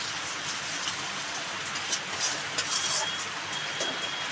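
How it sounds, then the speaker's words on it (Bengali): Yogurt hits hot oil with spice masala for bhindi masala and sets off a steady, loud crackling sizzle, close by and continuous without talk. "এই জন্য দইটাও তেলে দিয়ে দিলাম"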